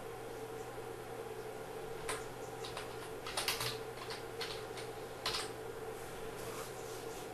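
Someone types a report name on a computer keyboard, producing scattered soft key clicks in short bursts over a steady low hum in a quiet room.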